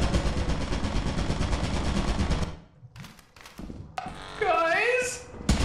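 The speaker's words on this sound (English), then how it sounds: "That's a turret." Turret gunfire in the video game Lethal Company: a loud, dense rapid burst that runs steadily for about two and a half seconds and then cuts off, followed by quieter game sounds and noise.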